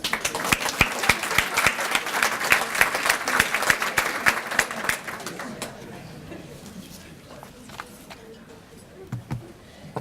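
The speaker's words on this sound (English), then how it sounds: "Let's give her a round of applause" A luncheon audience of the Lower Eastern Shore Heritage Area Council gives a round of applause, many hands clapping briskly for about five seconds before thinning to a few scattered claps and room noise.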